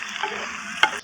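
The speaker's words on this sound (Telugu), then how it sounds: "ఉల్లిపాయలు వేసుకుందాం." Onions sizzling in a pan as they fry for an Andhra-style egg and dried anchovy curry, with a spatula stirring through them and one sharp scrape near the end, close and without voices.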